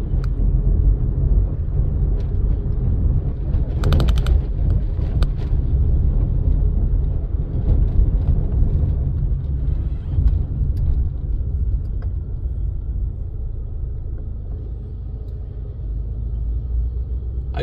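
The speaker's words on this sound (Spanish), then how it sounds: "Hay un poco de tráfico" Road traffic along the Costera in Acapulco, Guerrero, a continuous low rumble of car engines and tires passing nearby, with a few sharper clatters early on and the flow easing slightly toward the end, no talk.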